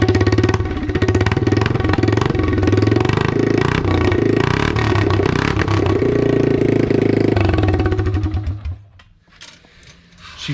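A used dirt bike fitted with a freshly installed battery starts and runs close by, a loud steady engine rumble with some revving that cuts off near the end.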